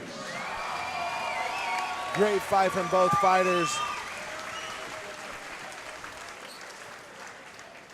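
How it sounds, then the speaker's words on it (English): Crowd applause and cheering at a KCFA 24 mixed martial arts event after the Trey Glass vs John O'Brien bout, a steady wash of clapping under an announcer's amplified voice, with a brief louder swell of whoops mid-way. "Once again, let's give a round of applause for both fighters."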